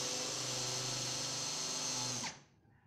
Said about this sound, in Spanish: puedes utilizar una broca avellanadora como esta. Así estamos creando la copa o el cono para que encaje perfectamente la cabeza de nuestro tornillo.